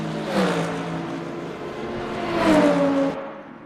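A Ferrari race car in a sim racing game at Circuit of the Americas roars loudly along the straight, engine pitch rising steadily through the gears in a continuous close whine with no voices.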